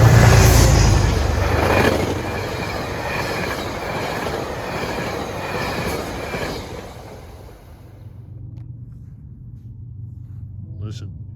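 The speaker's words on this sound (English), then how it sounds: "here comes train 857 from Poughkeepsie at" A passenger train, 857 from Poughkeepsie, passes at Ardsley-on-Hudson on a calm evening, a loud close rumble of wagons and wheels that fades away after several seconds, leaving faint distant sounds.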